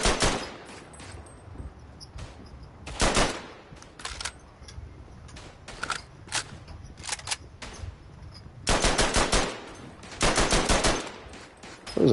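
Gunfire in a World War I shooter game on the Western Front, with bursts of rapid machine-gun fire and scattered single rifle shots, several loud sustained volleys separated by quieter crackling, no talk.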